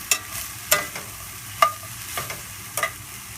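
Diced onion sautéing in a pan, a soft steady sizzle broken by a handful of sharp scraping stir strokes spaced roughly half a second to a second apart, close by with no talk.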